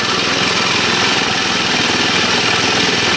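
A small go-kart engine left running, a steady loud buzzing drone that holds constant throughout with no talk.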